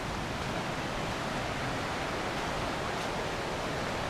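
Dalegarth Falls in March gives a continuous, even roar of rushing water, a close and steady wash with no talk over it.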